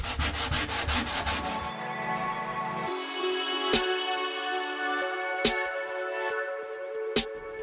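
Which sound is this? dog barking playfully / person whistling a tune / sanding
sanding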